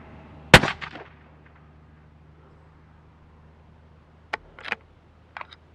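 A Mauser M18 rifle in 6.5 PRC fires a single sharp shot of 147gr ELD-M hand loads, loud and close, followed by quieter distant cracks and impacts a few seconds later.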